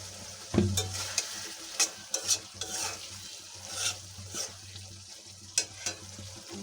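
Potatoes sautéing in a pan with a low steady sizzle while a spoon stirs and scrapes in irregular knocks and clinks, close up and without talk.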